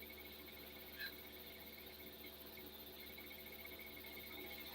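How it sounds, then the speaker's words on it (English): Crickets on a summer day, a faint, steady high chirring in the background over a low hum, continuing evenly with no voices. "I love the sound of crickets"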